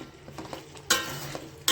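Brinjal curry with green tomatoes frying in a pan, a low steady sizzle with light stirring clinks, broken by two sharper bursts of spatula scraping, close by and without talk.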